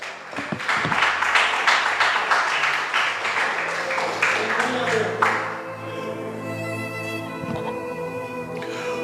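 A church congregation claps together for about five seconds, fairly loud and rhythmic, then the applause fades into a sustained musical tone.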